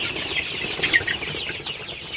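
Sonali chickens on a small farm cluck softly and intermittently against a constant noisy background, with a brief sharper call near the middle; faint and close, no talking.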